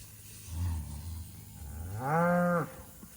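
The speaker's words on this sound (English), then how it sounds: "These cows over here running around like they're crazy." A Murray Grey cow lets out one long, low moo nearby in a pasture, preceded by softer lowing rumbles in a quiet outdoor setting.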